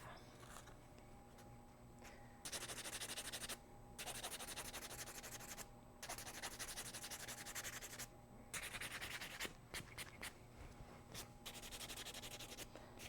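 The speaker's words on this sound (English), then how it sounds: "When you're done filing, you are going to buff." Fingernails being buffed after filing, a close, dry rhythmic rubbing that comes in repeated strokes separated by short pauses, steady and fairly quiet.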